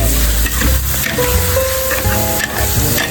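Pickled ginger and cooked ginger stir-fried in a Thai home kitchen, giving a steady loud sizzle with scraping stirring sounds throughout.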